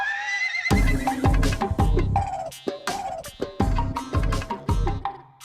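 A horse neighs and whinnies loudly in a Fevicol TV ad, rising and falling in several bursts over a few seconds, with no talking.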